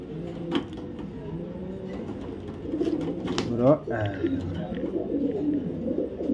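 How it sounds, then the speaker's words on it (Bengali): A young female red checker racing pigeon cooing softly amid other pigeons, with someone speaking over the steady low cooing. "এটা মাদি কবুতর"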